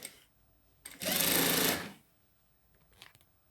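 A sewing machine runs in one steady burst of just under a second, stitching curved bias binding onto a small handbag, with quiet pauses before and after and a faint brief rustle near the end.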